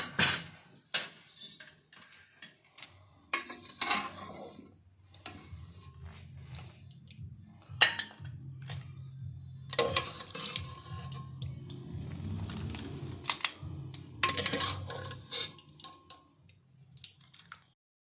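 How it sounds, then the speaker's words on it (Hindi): Mutton and potato curry being ladled from a pot into a dish, with soft metallic spoon scrapes, clinks and wet squishy plops in scattered bursts, close and moderately loud, with no talking. "अब मैं इसको डिश आउट करूँगी।"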